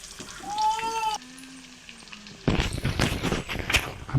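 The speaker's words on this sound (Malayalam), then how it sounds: "നമ്മുടെ മുഷിക്കുട്ടൻ ചട്ടി കിടന്ന് വേവുന്നത് കണ്ടോ?" Pieces of catfish fry in a pan with a busy crackling sizzle that fills the second half. Brief tonal sounds come before it.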